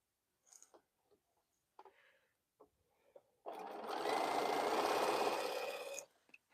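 A sewing machine stitches quilt rows, a steady close whirring run of about two and a half seconds after scattered faint handling clicks and taps.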